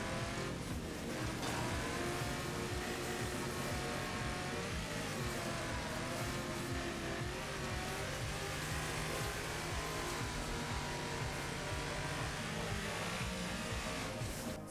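Super Phantom race car in the driving game Wreckfest, its engine roaring steadily at high revs for the whole stretch with dense, loud racing noise and no let-up.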